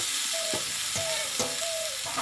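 Sautéed potatoes frying and being stirred in a pan with kabuli chickpeas: a loud continuous sizzle broken by a few scraping spatula strokes, close and alone.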